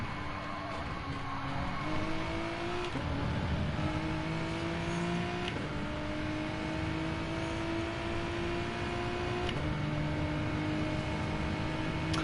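A Genesis GT race car engine in a sim racing game at Bathurst drones steadily throughout, its pitch climbing through repeated gear changes with sharp shift breaks and a constant road roar beneath, loud and close with no talking.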